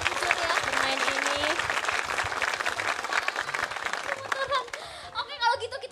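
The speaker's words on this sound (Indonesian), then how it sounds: "Tepuk tangan untuk member-member ya sudah" Studio audience clapping and chuckling for JKT48 members during an Elite Room show, a steady dense patter of applause lasting several seconds before thinning out near the end.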